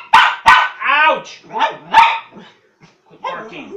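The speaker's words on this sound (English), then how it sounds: "Quit barking." A dog barks in several sharp, loud bursts close by, with whining yips between them and a short pause before more vocalizing.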